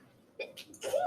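A single quick sneeze, close and fairly soft, a short burst of breathy noise in a quiet room.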